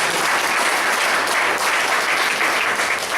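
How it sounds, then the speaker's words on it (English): Audience clapping at a members' meeting, steady loud applause from many hands that holds through the whole stretch with no talk over it. "give him a big round of applause"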